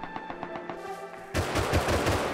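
Rapid automatic bursts of AK rifle fire in the video game Rust, a close, loud string of shots that turns into dense continuous firing partway through.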